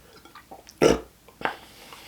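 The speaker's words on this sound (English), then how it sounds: "I'll be burping for a while." A loud belch after a fast food eating challenge of Taco Bell quesalupas and a nacho party pack, followed by a second, shorter burp, with quiet mouth noises between them.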